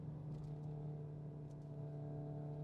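Hyundai i20N hot hatch engine held in second gear at about 4,000 rpm around 66 km/h, a steady droning hum with a strong low tone, constant and unbroken, heard from inside the car among traffic.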